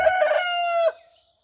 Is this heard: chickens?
yes